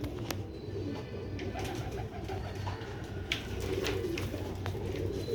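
Rooftop pigeons coo softly in repeated low, throaty calls against a murmuring background, fairly close and steady throughout.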